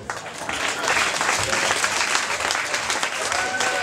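Guests at an engagement party applaud in a dense, sustained round of clapping that swells slightly and holds steady, with some faint voices mixed in the crowd noise.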